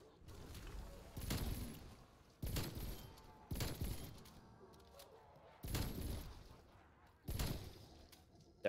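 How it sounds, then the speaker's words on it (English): Dual three-round burst pistols firing at zombies in Black Ops zombies mode, five sharp loud bursts of rapid shots at irregular intervals, with faint talk in the gaps between them. "every press of my mouse buttons, I mean, I'm shooting six shots at a zombie"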